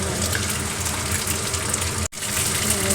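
Spice-and-water mixture with whisked yogurt poured into sour dal with spinach, a steady continuous watery pour with one brief break near the end.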